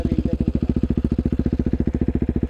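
A motorcycle engine, one of an NS 200, Duke 390 or MT 15, runs close up with a fast, even, thumping beat at a steady speed, with no rising rev and no talk.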